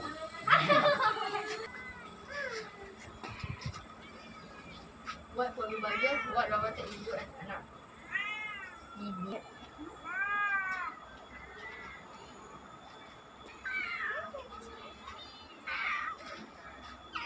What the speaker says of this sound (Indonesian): Bawah pun ada kucing